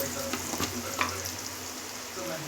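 Onions browning in a pan for egg curry give a steady close sizzle, with a few soft stirring scrapes breaking through and no talk over it.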